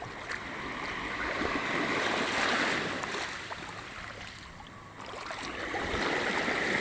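Waves at high tide on Talisay beach wash in with a steady hiss and rush, swelling and easing in slow surges.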